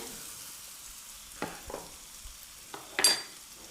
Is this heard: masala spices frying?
yes